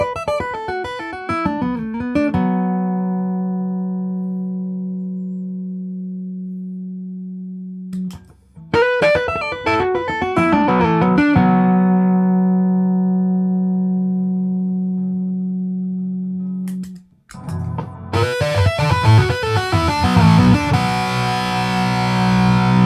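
Distorted electric Stick bass notes with ACTV-2 pickups, played through an amp, ring out in three phrases, each starting with a gritty melodic run and then holding a long, sustained buzzing note that fades.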